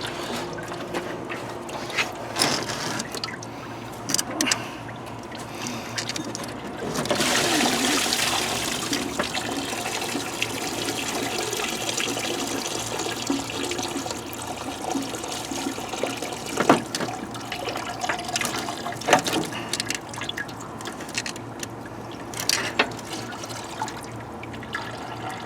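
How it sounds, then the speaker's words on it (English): Fluid drains and spills from an old Rambler car into a bucket, a continuous trickling, splashing wash of liquid with occasional drips and small knocks, close by and without speech. "I don't want this stuff all going into the ground. I mean, some of it's going to spill. I can already see it still spilling."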